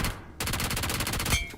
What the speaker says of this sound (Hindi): अभी ये बगल पे भी गोलियां चलने लग गई